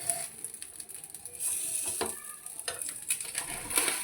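A farali sandwich toasting in a pan gives off a soft, steady sizzle with occasional light scraping and stirring clicks, quiet and close, with no talking.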